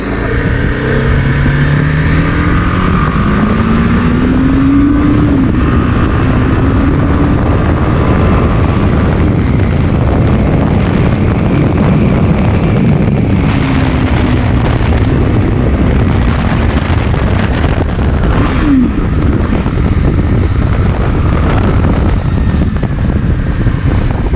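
A 2021 BMW G 310 R single-cylinder motorcycle in second gear, engine revving loud and steady throughout with rising and falling pitch over continuous wind and road rush, no talking.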